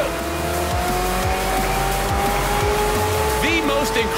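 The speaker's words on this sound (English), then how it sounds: "The most incredible hypercars are here." Hypercars race through the streets in Forza Horizon 4, their engines droning loudly and steadily with repeated gear-shift dips and a brief tire squeal near the end, all close and continuous.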